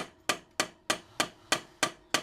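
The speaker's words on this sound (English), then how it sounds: "a good way to make a punch is to take a bad drill bit, but you only want light taps." Eight sharp metallic hammer taps on a punch made from an old drill bit land at an even, quick rhythm, each ringing briefly before the next, close and clear with nothing else around.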